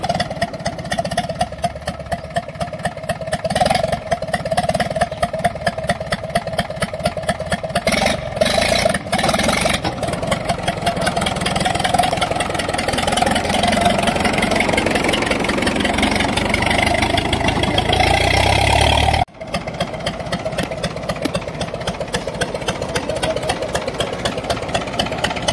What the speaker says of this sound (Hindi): ये देखो भाई 4x4 ट्रैक्टर बना दिया हमने